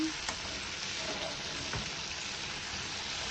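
Garlic and tomato sautéing in a pan after eggplant was fried in it, giving a steady close sizzle with a couple of faint scraping stirs, no voices.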